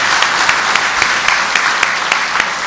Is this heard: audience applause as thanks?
yes